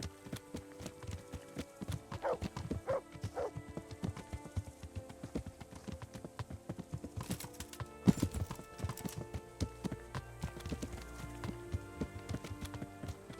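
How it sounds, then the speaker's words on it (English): Horse hooves clip-clop in an uneven trotting rhythm over a quiet soundtrack in the game Kingdom Come: Deliverance, with a few sharper clacks and a brief louder thump midway. "Horse."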